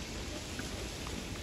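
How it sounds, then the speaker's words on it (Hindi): Light rain falling at a beach in the UAE, a steady, even hiss of drops without breaks, fairly quiet and heard on its own. "लोग बारिश में एंजॉय कर रहे हैं"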